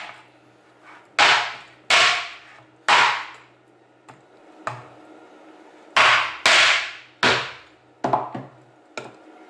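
A series of sharp, heavy hammer blows landing on a carp being prepared for balyk, about a second apart, each with a short splatting thud.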